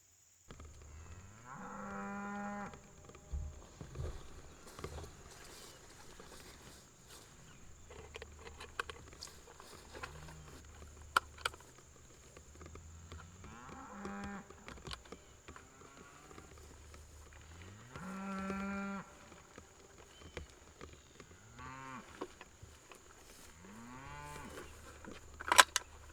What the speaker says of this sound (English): Those cows.